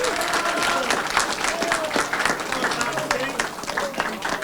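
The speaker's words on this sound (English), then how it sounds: "Can y'all give him a round of applause" Audience applause at a city council event announcing a gun violence prevention committee, a steady dense wash of clapping from a crowd, with voices and cheers mixed in throughout.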